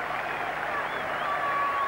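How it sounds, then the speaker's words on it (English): Cricket crowd at Old Trafford during the 1981 Ashes Test giving a batsman a sustained ovation as he walks off, a steady, distant roar of applause with no break. "And they're going to applaud him all the way in, a reception he so thoroughly deserves."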